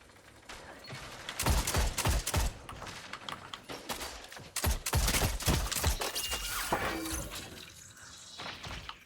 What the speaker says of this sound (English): It's 2 right there, shooting the solar scout rifle.